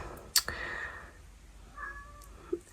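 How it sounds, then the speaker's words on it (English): A cat meows at a door indoors, a couple of short, fairly faint cries with a sharp knock or tap, and quiet room tone between them. "now I've got a cat meowing at my door"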